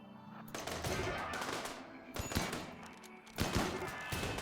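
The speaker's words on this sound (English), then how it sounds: "Now you can open fire." Bursts of gunfire in Rimworld as colonists open fire on dropping Mechanoids, dense crackling volleys in several clusters with brief lulls between, loud and continuous with no talk over them.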